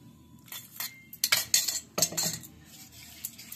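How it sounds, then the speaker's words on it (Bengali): A spoon beats idli batter in a bowl, giving irregular clinks and scraping knocks that come in quick clusters, fairly close and moderately loud, with no talking. "ভালো করে ফাটিয়ে নিচ্ছি"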